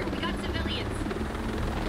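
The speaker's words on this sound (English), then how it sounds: "Grabbing the helicopter, and we are out of here." A helicopter's rotor thrums steadily in the video game Breakpoint, loud and close, with a faint voice talking beneath it.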